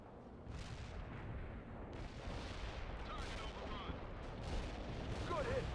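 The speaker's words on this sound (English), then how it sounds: "Mortar battery launched at the coordinates" Mortar artillery strike in World in Conflict, heavy rumbling booms and blasts rolling one after another under battlefield radio chatter and voices.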